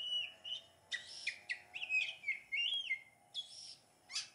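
Oriental magpie-robin (kacer) kept as a breeding bird, giving a series of clear, varied whistled chirps and song phrases in short bursts, close and fairly loud with no talking.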